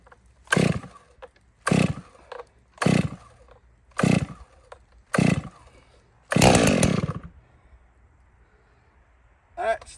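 Close, loud chainsaw bursts revving in a regular rhythm about once a second as it cuts through a log, ending in a longer sustained cut and a quiet pause before one more rev.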